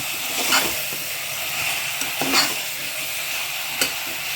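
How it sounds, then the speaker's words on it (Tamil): Quail being stirred into a spiced masala in a hot pan, a close steady sizzle and hiss with a few distinct scraping stirs of a spatula, no talking. "காடை போட்டதுக்கப்புறம் எல்லாம் ஒன்றா சேர்த்து மிக்ஸ் பண்ணிவிடுங்க."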